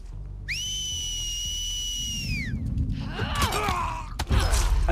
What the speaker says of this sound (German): Immer mit ihrer ollen Pfeiferei, das nervt total ab.